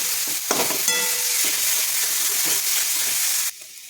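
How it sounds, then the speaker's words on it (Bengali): Spice masala with turmeric and salt fries in a pan with a dense, loud close sizzle, broken by rhythmic scraping strokes of a spatula, easing off abruptly near the end. "এবার পরিমাণ মতো হলুদ, পরিমাণ মতো নুন দিয়ে ভালো করে আবার কষিয়ে নেব।"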